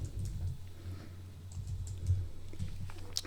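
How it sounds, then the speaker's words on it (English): Typing on a computer keyboard while entering the words New York into a photo editing program's text tool, a quick run of light key clicks alone, with no talk. "Now it's time to type in the word New York."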